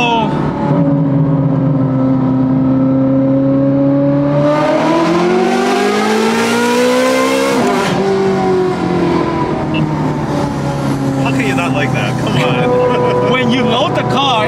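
Ferrari 430 Scuderia V8 engine revving loudly up through the gears, a harsh rising howl with a brief shift break before climbing again, close and continuous inside the car, with excited voices talking over it.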